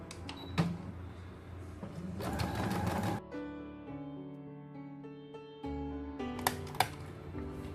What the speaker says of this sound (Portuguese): a gente vai fazer uma costura de 1 centímetro